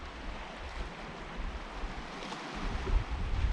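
Sea water breaking on the rocks at Saltom Bay in Cumbria at low water, a continuous rough surge and wash with wind buffeting the microphone, swelling louder toward the end.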